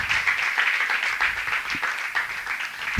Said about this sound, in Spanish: Demos un aplauso a Dios en esta mañana.